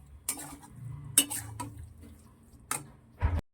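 Paneer bharta being stirred in a pan, with a handful of separate metal clanks and scrapes from a spoon against the pan, plus a soft rustle between strikes.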